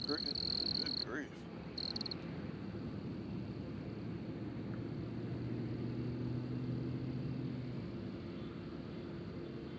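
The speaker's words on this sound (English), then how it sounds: "Y'all hear that cricket?" Steady insect chirring from a cricket outdoors at a windy airport, a continuous dense buzz running the full length under wind noise, with a brief higher tone near the start.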